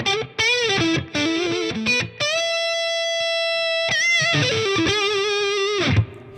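An Epiphone Jimi Hendrix Flying V electric guitar through high gain plays bright sustained notes and short melodic phrases, heavily distorted, loud and close, with no voices.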